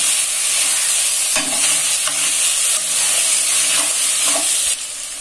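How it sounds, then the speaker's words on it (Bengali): Boiled pasta and vegetables tossed into a hot pan and stir-fried, a loud steady sizzle with scraping stirs and clinks throughout, no voices. "এখন অ্যাড করব আগে থেকে সিদ্ধ করে রাখা পাস্তা ও সবজিগুলো"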